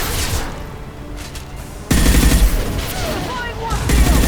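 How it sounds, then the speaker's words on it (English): Mass Effect combat gunfire: scattered shots at first, then a dense, loud burst of rapid automatic fire and blasts that continues to the end, with voices calling out amid the shooting. "Taking heavy fire!"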